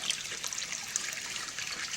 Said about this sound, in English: this is the outtake from the fish tank. So all the dirty water